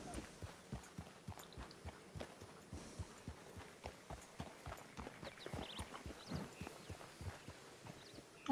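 Horse hooves in the Red Dead Redemption game (RedM) clip-clop in a steady walking rhythm, fairly quiet, with a faint hum in the background.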